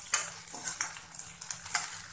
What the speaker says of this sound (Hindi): और फिर इसमें प्याज डाल देंगे कटे हुए, प्याज को हल्का सुनहरा भून लें